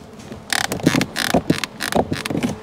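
The door handle of a Mercedes A-Class creaks and ratchets in a series of sharp, close mechanical bursts as the door is worked, several distinct creaks over a couple of seconds.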